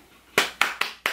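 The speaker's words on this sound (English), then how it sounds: "Round of applause." Four sharp, close hand claps in a short, uneven rhythm, loud and isolated with no crowd behind them.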